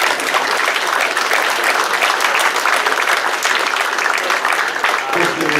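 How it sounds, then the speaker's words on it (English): Loud, dense applause from a large audience at a live reading event, sustained and even for several seconds, with a voice starting underneath near the end. "Round of applause for Virginia"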